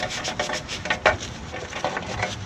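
Rubbing and scrubbing gunk off an ABS speed sensor on a motorcycle, a close, steady scraping rasp with uneven strokes throughout.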